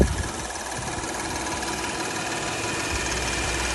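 A car engine idles steadily under the open hood just after starting, a close, even mechanical hum with a fine ticking texture and no talk over it.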